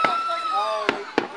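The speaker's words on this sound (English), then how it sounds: "With fireworks." Fireworks bang in two sharp, separate cracks close together near the end, over a faint fading tonal hum, with no talk during the bursts.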